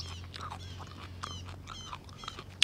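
Raw foraged mustard greens chewed close to the mouth, a quiet run of wet crunches and munching bites at an irregular pace.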